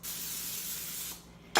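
A can of cooking oil sprays into an air fryer basket in one continuous hiss lasting about a second, followed by a brief quiet pause and a second short spray burst.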